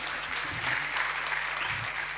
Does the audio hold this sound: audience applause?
yes